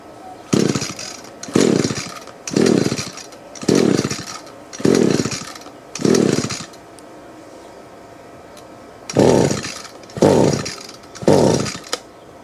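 Repeated pull-starting of an Echo 2-cycle string trimmer with the choke up: eight loud rasping recoil-cord pulls in two bursts, roughly one per second, with a short pause between sets and no engine catching.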